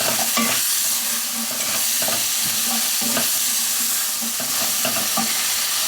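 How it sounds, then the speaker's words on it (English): Leeks and carrots fry with pancetta in a soup pot, producing a loud, continuous sizzle and crackle, with stirring scrapes throughout and no talking. "And then my leeks can go in, and the carrots."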